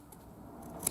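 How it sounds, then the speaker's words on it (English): Sewing scissors making a single quick snip into the curved fabric seam allowance of a stitched elephant, a faint close click at the end of a quiet moment. "A little V here and here. And a little snip there."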